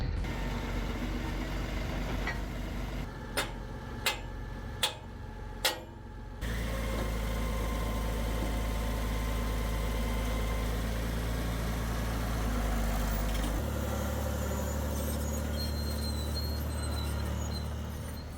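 A 60-year-old Cat bulldozer engine idles steadily with a low, continuous rumble, preceded by a few sharp metallic knocks as pins are set and the machine is readied for clearing land.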